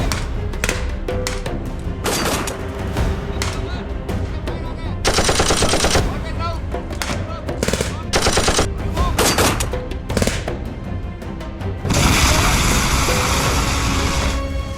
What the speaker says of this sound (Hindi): एक दुश्मन की पोस्ट से हमारी तरफ फायर आया।